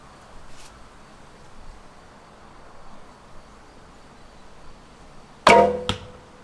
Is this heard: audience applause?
no